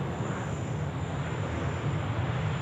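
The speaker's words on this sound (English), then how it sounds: "here we go, Qantas 737, a 478 service just dropping in there from Melbourne tonight" A Qantas Boeing 737 landing at Sydney airport on runway 16 right, arriving from Melbourne at night: a steady, loud jet roar with deep rumble, holding constant throughout with no voices.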